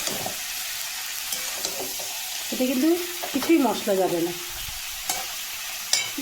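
Cabbage with green and dried chillies, sugar and turmeric fries in refined oil in a pan, a steady loud sizzle with scraping stirs, while someone talks over it.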